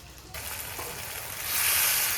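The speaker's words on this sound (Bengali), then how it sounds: "ওই তেলে কালো জিরে পেঁয়াজ কুচি ফোড়ন দিয়ে দিলাম" Black cumin seeds and chopped onion drop into hot oil left over from frying fish, setting off a sudden crackling sizzle that swells louder over two seconds, close by and without speech.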